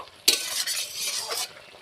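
Vegetables with meat spice and small fried fish stirred in a pan, a sharp scrape of the spoon followed by steady frying sizzle that swells and fades in short bursts, close and alone.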